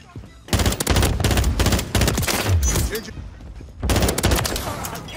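Bursts of FR 5.56 rifle fire in Call of Duty MW3, the World Ender variant, in loud rapid volleys separated by short gaps, with game effects between the bursts.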